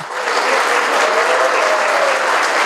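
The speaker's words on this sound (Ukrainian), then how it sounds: "В залі прозвучали овації." A council hall audience gives a sustained ovation, dense clapping that stays loud and even throughout with no speech.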